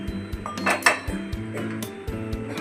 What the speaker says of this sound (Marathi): आता आपण याला खलबत्त्यामध्ये चांगलं कुटून घ्यायचं